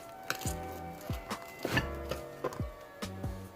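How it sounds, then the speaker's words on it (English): Cooked jerk pork, oven-baked then indoor-grilled, being cut on a board: a few sharp knife taps against the board come in uneven bursts, close and fairly quiet, with faint rustling between them and no talking. "I'm gonna take it out and cut it on a board so you can see"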